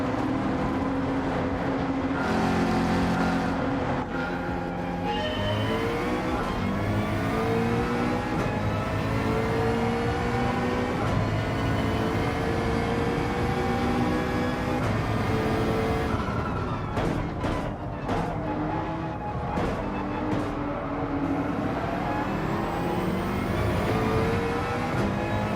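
A McLaren race car in Gran Turismo 7 drives at speed, its engine whining and rising through the gears with repeated upshifts and brief drops as it brakes, loud and continuous without talk.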